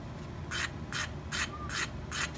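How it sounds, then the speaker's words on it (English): A tool edge is sanded to a sharp point on a piece of sandpaper for scraping guitar purfling, heard as five evenly spaced, close, raspy rubbing strokes over a quiet background. "Just using a piece of sandpaper."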